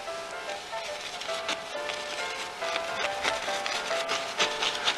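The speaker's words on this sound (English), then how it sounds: "Really pushing that paint into the canvas." A paintbrush scrubs and grinds paint into canvas in rough, repeated back-and-forth strokes, giving a close, loud, scratchy rubbing with no voices.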